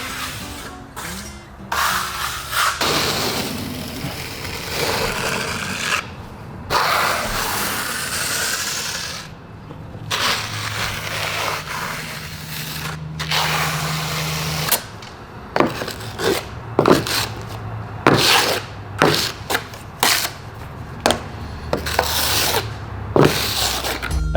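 A steel trowel scrapes and rasps as it spreads a thin coat of Limestrong marble lime plaster across a wall, in steady strokes broken by short pauses, close and fairly loud.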